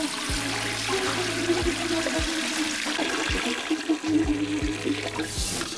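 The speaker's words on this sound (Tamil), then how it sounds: "இந்த கால் வேக வைக்கிறதுக்கு 2 லிட்டர் தண்ணி ஊற்றுறோம்." Two litres of water pour steadily into a cooking pot for village-style goat leg soup, a continuous splashing rush that runs for several seconds with a few soft low thumps underneath.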